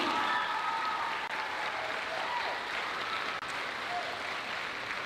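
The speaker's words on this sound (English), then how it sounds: "Kata, you can give a round of applause, absolutely." Audience at a high school choral arts concert applauds steadily and fairly loudly for a student co-president being welcomed to the podium, a dense, continuous wash of clapping that lasts throughout.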